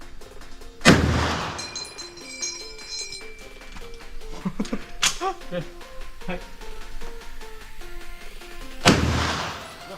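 Gunshots ring out at a shooting range at the Cu Chi Tunnels, Vietnam, two loud sharp reports several seconds apart with a softer crack between, while people talk in the background.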